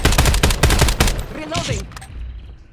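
A quick volley of gunshots cracks out in Call of Duty Warzone, several loud close reports in fast succession before a brief voiced callout and fading rumble.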